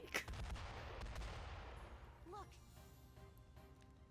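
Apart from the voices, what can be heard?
explosions in a video game, Metaphor ReFantazio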